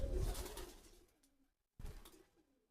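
Pigeons cooing in two soft, low phrases separated by a brief silence, heard close by with no talk.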